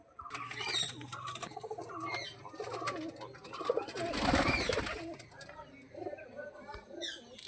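Pigeons coo and flutter in a rooftop loft where young birds are being readied for flight, soft repeated coos mixing with wing flaps and a noisy burst midway, with a person talking nearby.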